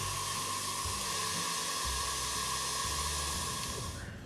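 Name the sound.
electric mixer whipping cold liquid whipping cream at high speed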